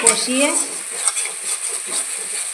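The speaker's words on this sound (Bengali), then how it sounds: "আমি এবার এর ভিতর দিয়ে দেব ভেজে রাখা আলুগুলো।" Fried potatoes dropped into a pan of cooked-down masala with the oil separated, then stirred: a short scrape and clink of a utensil against the pan over a soft sizzle, close and brief.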